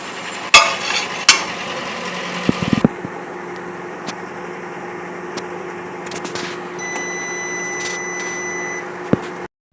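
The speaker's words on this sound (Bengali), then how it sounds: "তো ওভেন একটু গরম করে নিই 30 সেকেন্ড।" A microwave oven runs for a short heating cycle, a steady low hum with a faint mechanical whir, broken by a few clicks and knocks near the start and a soft beep-like tone toward the end.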